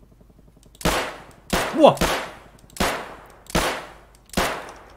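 Gunfire in the Escape from Tarkov video game: five or six sharp, loud single shots spaced roughly half a second apart, each with a short decaying tail, with one brief exclaimed voice among them.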